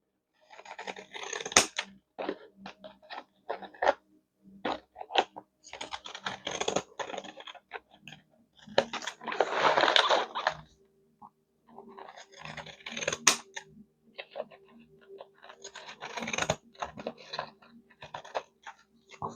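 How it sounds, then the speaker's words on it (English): Scissors snip across the edge of a crafted chip bag in a quiet room, a series of close crunchy cuts and crinkles in irregular bursts with pauses between. "Now, if you want the little ragged edge, you would just take this and just cut across."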